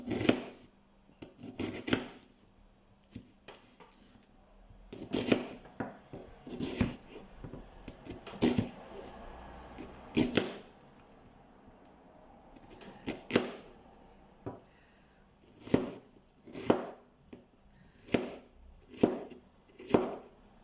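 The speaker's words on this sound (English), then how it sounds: "we're just cutting up our onions, not our fingers" A knife chops onions on a cutting board for a kidney bean and potato curry, delivering sharp, irregular knocks in quick bursts separated by short pauses, close and clear with no speech.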